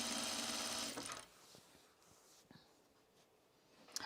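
A sewing machine runs a loud, fast stitching burst on blouse seams for about a second, then stops, leaving quiet handling clicks and faint rustles.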